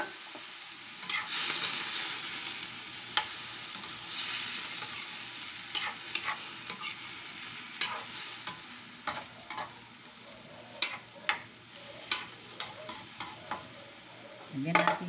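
Mackerel sautéing in a pan while being stirred, a soft continuous sizzle broken by repeated sharp scraping and clinking strokes of the utensil, close and fairly quiet.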